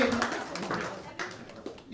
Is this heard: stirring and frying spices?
no